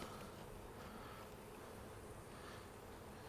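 Bees drone steadily around a hive during a spring inspection, a soft continuous buzz that stays fairly faint and unbroken throughout, with no talk.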